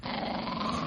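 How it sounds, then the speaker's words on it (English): A dog growls low and steadily throughout, a continuous rumbling snarl heard close and alone with no talk over it. "We found the dog that got Harris"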